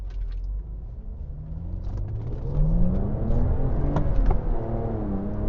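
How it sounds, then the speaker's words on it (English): A BMW Z4 E89 roadster pulls hard in third gear at full throttle, a steady mid-pitched engine drone rising gradually in pitch over several seconds, heard from inside the car with road rumble underneath. "So third gear, foot to the floor, and it's just surging."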